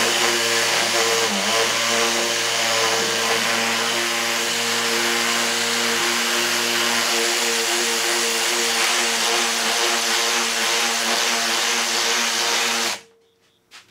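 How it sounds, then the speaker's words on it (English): A Black & Decker Matrix drill with its sanding attachment sands a 2x4 board in a loud, steady high-pitched whine for about thirteen seconds, then cuts off abruptly. "Let's just see if we can maybe sand this 2x4 to the point where this ink is no longer here."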